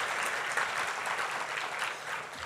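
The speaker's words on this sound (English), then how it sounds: "Give him another warm round of applause." Audience at a violence prevention conference applauding Mayor Sylvester Turner, a dense, even round of clapping from a large crowd filling the whole moment at steady loudness.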